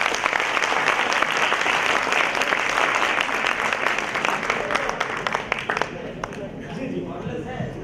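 Loud sustained audience clapping at a university induction programme in Rohtak, dense and steady, thinning slightly near the end as voices emerge.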